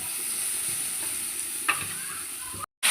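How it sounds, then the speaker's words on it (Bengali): Vegetables, including eggplant seasoned with salt, turmeric and green chili, fry in a kadai with a steady bright sizzle, broken by a scrape of stirring and a brief cut to silence near the end. "এবার নেড়ে চেড়ে ভেজে নেব"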